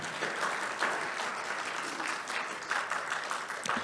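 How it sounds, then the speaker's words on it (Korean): Church congregation applauding during a Sunday service, a steady wash of many hands clapping together for about four seconds with no break. "감사의 박수 한번 드려요."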